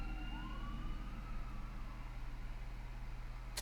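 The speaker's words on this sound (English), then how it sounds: "Sorry, I don't know if you could hear those sirens." Fire engine sirens wail steadily near a fire station, a faint rising and falling tone over constant low background hum, with no voices.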